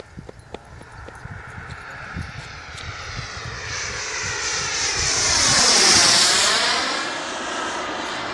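A Sebart Avanti Mini model jet with a small turbine engine flies past on a runway pass, its whine swelling from faint to loud with a sweeping pitch shift as it nears and passes, then fading slightly.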